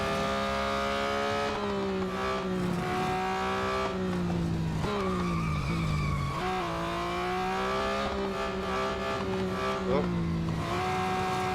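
A 2021 Porsche 911 GT3 in the racing game Real Racing 3 revs and shifts through gears, its engine tone rising and falling steadily, with tire squeal and skidding under the racing sound.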